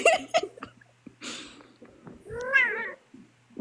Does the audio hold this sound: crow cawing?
no